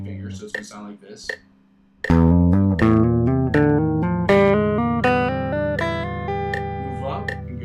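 Electric guitar playing a finger exercise with the index and ring fingers, a steady run of plucked notes after a few scattered opening tones, loud and close with no talking.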